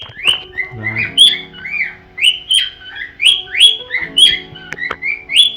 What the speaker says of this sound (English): my bird is annoyingly loud